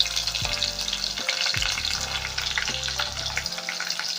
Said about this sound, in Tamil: நம்ம அதில் கட் பண்ணி வச்சுருக்க சின்ன வெங்காயத்தை போடலாம் ஃப்ரெண்ட்ஸ்